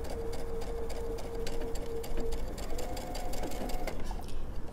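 A sewing machine stitches pajama fabric in a steady, rapid, close-up run with a continuous motor hum and a fast mechanical pulse, and no voices.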